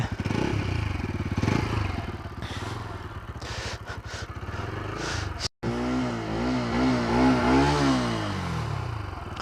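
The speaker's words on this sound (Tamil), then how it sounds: "ஒரு நிமிஷம் எக்ஸாஸ்ட் நோட் கேட்போம்." A 2024 Bajaj Pulsar NS200 motorcycle idles with a throbbing exhaust note, then after a brief cut revs up and down in repeated rising and falling sweeps, close and loud with no talking.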